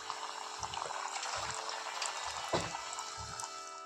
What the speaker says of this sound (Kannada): ಇವಾಗ ಎಣ್ಣೆ ಬಿಸಿಯಾಗಿದೆ. ಹಾಕೋಣ.